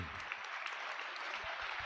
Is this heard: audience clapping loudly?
yes